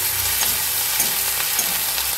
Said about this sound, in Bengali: একটু নেড়ে চেড়ে এর মধ্যে অ্যাড করে দিচ্ছি কিছুটা আদা